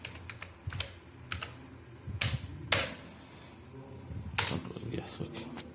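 Password keys tapped on a laptop keyboard, a quiet indoor run of irregular clicks and small bursts of keystrokes with short pauses between them, close to the listener.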